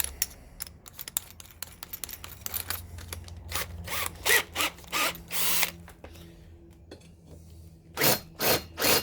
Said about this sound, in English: Love these Makita drills.